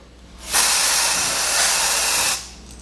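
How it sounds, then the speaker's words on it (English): Lace tint sprayed from an aerosol can into a wig cap, one close continuous hiss lasting about two seconds with a sharp start and stop. "we're gonna spray into the cap to give it more color"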